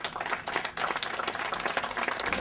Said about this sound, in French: vous pouvez l'applaudir parce que ce qu'il fait